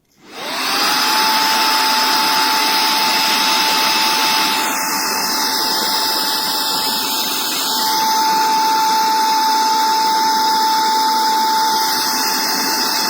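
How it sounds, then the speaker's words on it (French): A Qeensun 3-in-1 handheld vacuum cleaner runs at its first speed, a loud steady motor whine with a high-pitched tone that starts up and holds, shifting slightly partway through, with no talking. "Là je vais démarrer l'aspirateur"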